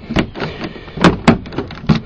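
2003 Honda Pilot car doors worked with a custom-cut key: a series of irregular clunks and lock clicks, close and fairly loud, about eight distinct knocks over two seconds.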